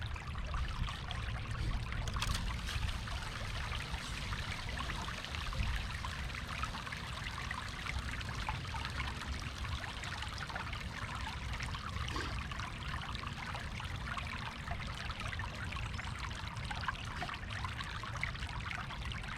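Water trickles and pours steadily through a gold mining sluice outdoors, a continuous close, even rushing flow with no pauses, running a little slow.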